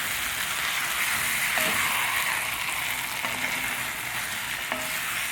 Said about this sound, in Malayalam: ആ മസാലകളെല്ലാം കാടയിൽ നല്ലപോലെ മിക്സ് ആവണം.